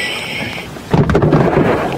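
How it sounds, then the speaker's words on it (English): Rain hits outdoor livestream equipment at a dive site, starting as a soft hiss, then swelling into a loud, dense patter with a rumbling burst near the end, close and continuous. "We are getting rained on here, and we're just trying to cover up the equipment."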